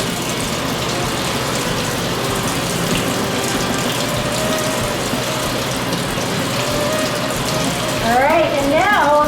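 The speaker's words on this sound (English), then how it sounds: "I'm gonna squeeze out all the excess liquid" Liquid squeezed from grated potatoes in a colander for latkes: a steady wet trickling and dripping runs throughout, with a voice briefly audible near the end.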